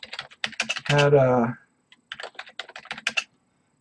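Typing on a computer keyboard, rapid close clicky keystrokes in two short bursts, with a brief voiced sound between them.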